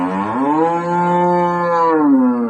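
Cows on a farm in Tharad taluka, Banaskantha, give a single long, close, loud moo with a rich harmonic tone, swelling and falling over a couple of seconds.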